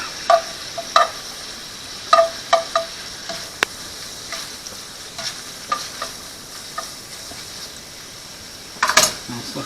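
Shrimp, garlic and other ingredients sizzling in olive oil in a pan for lemon garlic shrimp pasta, a soft steady frying hiss with repeated stirring scrapes and light clicks of a utensil against the pan.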